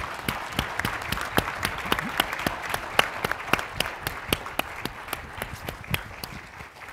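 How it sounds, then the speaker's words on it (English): Applause from a conference plenary audience for a panel, with many sharp, distinct claps close by over a broader crowd clapping, sustained throughout. "Let's hear a round of applause for this panel."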